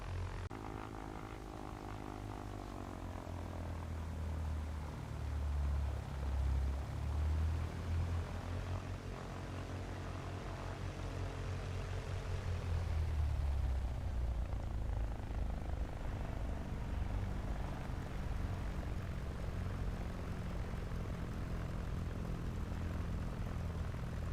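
Aircraft taxiing after landing in a flight simulator game, a continuous droning engine hum with a slow shift in pitch midway, steady and without talk.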